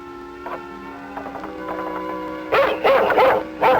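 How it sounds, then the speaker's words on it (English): A dog barks and yips in a 1950 National Film Board of Canada drama, at first a few faint, spaced yelps, then a burst of loud, close barking near the end. "A dog came."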